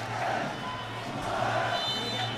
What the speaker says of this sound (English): The Royal crowd ecstatic so far.